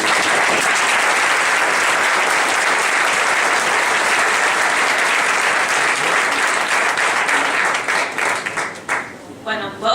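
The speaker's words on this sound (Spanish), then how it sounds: "Gracias, un aplauso para..." A crowd at a political campaign event for a Catalan candidate bursts into loud, sustained applause, dense clapping filling the room before thinning out near the end.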